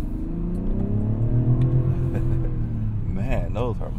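A 2024 Mazda CX-90 SUV with all-wheel drive accelerating, its engine note rising in a smooth, steady droning hum heard from inside the cabin, with a voice breaking in near the end.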